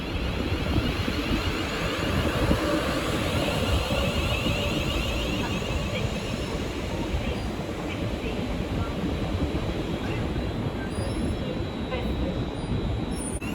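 A London Northwestern Railway Class 350 electric train, unit 350-104, runs into the station on a London Euston to Northampton service, with a continuous loud rumble of wheels on rail and faint high squeals, steady throughout.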